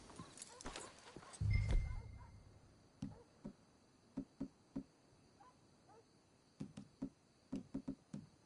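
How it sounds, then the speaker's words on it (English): Horse hooves in the open-world western game Red Dead Redemption 2 land in short clusters of soft clip-clop knocks on the ground, fairly quiet, with a snort or breath early on and faint ambient sound between the steps. "Let's leave the horses here."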